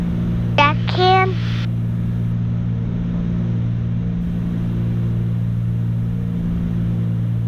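Steady droning hum of a small airplane engine inside the cockpit on final approach, constant and loud throughout, with a voice briefly speaking near the start.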